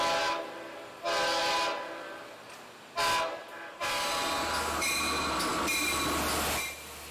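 A commuter train running between New York City and the Long Island ferries, with loud bursts of rumbling wheels, screeching rail noise and a sustained low hum as cars pass close by.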